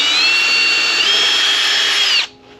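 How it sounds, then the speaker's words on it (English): A power drill bores a slightly larger-than-M6 hole for a Honda S2000 bumper bolt, one loud close whine holding steady for about two seconds before it cuts off abruptly. "now I'm going to drill a hole"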